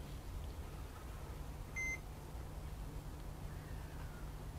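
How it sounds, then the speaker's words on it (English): A single short electronic beep from a carp fishing bite alarm on a rod sounds once at a quiet pond, faint against a steady low background hum. "a little beep on the right hand rod"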